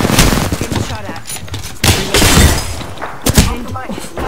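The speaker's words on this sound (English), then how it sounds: "Getting shot at." Gunfire in Apex Legends, bursts of loud, close automatic shots with sharp impacts and thuds, firing in clusters separated by brief lulls, with a voice talking over the action.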